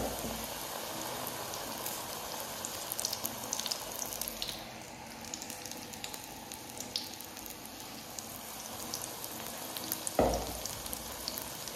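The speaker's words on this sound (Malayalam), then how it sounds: "ഇനി നമ്മൾ ഓരോന്നായി മുക്കിയെടുത്ത് പൊരിക്കാം" Green chillies dipped in batter for bajji fry in coconut oil, a steady broad sizzle and crackle that goes on throughout, with a brief louder burst near the end as another piece drops into the oil.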